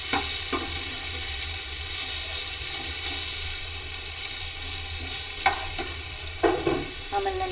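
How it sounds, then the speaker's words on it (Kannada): Carrots frying in oil in a pan while being stirred, a steady close sizzle with occasional scraping stir strokes. "ನಾನು ಇವಾಗ ಕ್ಯಾರೆಟ್ ಹಾಕ್ತಾಯಿದ್ದೀನಿ."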